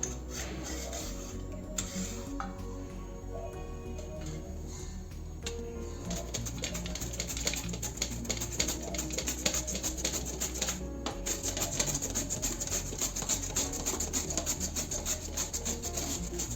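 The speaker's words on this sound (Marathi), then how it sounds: "अशा पद्धतीनं खिसून घ्यायचा बघा तर मग आपला हा मुळा किसून झालेला आहे" A peeled radish is grated by hand on a kitchen grater for radish paratha, giving a steady, close scraping rasp that continues without pause and grows busier in the second half, with no talk over it.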